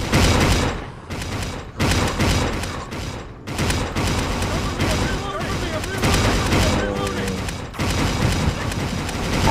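Gunfire in The Last Stand: Dead Zone, loud bursts of shots and booming impacts broken by short gaps, with a voice talking over parts of it.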